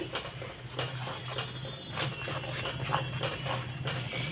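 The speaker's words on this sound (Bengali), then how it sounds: "এবার আমরা এখানে আমাদের কেটে রাখা টমেটোগুলোকে দিয়ে দিলাম দিয়ে ভালো করে নাড়িয়ে নিচ্ছি" Chopped tomatoes stirred in a pan for a cauliflower roast, with a steady sizzle and a run of soft scraping and clinking strokes from the utensil against the pan, close up and with no talking.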